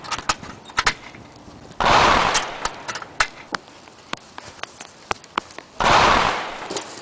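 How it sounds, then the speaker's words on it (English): Gunfire in a World War II shooter game: a string of sharp single shots spread irregularly across the clip, with two louder, longer blasts standing out, and no talking. "I was taking aim at the enemy when one of them spotted me, Allied infantry! so I took my shots."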